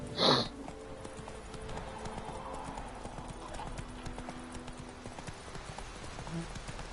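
A horse gallops in The Witcher 3 video game, its rhythmic clip-clop hoofbeats running steadily throughout after a brief louder sound at the start.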